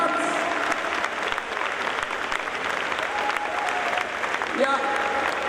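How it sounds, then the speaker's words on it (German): Audience at a Blizzard costume contest at Gamescom 2014 applauding a second-place winner, dense continuous clapping with crowd noise throughout, fairly close and loud. "Großer Applaus für Laura."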